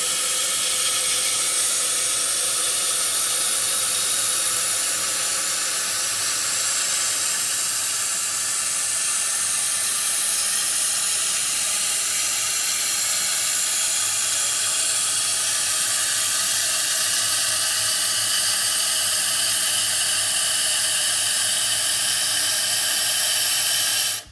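A steady, close hiss of water runs for over twenty seconds without a break as a residential toilet tank refills after a flush, with no voices.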